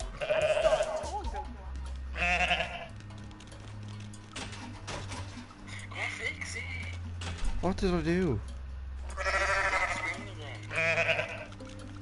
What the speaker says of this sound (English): 17 little goats going around.